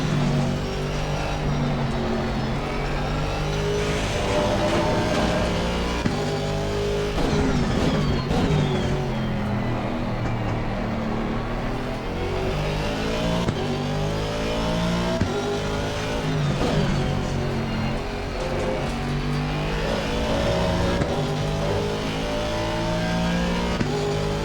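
An Aston Martin V8 race car roars at Brands Hatch in Assetto Corsa Competizione, its engine note loud and sustained as it climbs and drops through shifts on a multiplayer server, with no voices.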